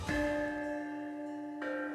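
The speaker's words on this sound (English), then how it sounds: "The bells have a very unique, beautiful tone, especially when played in the lower register." Bianzhong, ancient Chinese bronze bells, are struck, giving a pure ringing tone that sustains and fades before a second strike rings out near the end, heard alone and fairly close.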